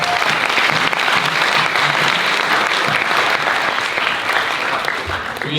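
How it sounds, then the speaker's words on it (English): An audience gives a loud, sustained round of applause for panel speakers at an alumni interview talk, dense clapping filling the room from start to finish with faint voices underneath. "Let's give them a round of applause"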